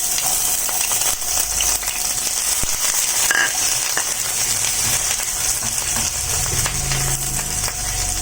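Onions frying in oil in a pan for egg adobo give a steady, close, dense sizzle throughout, with occasional stirring scrapes and no talking.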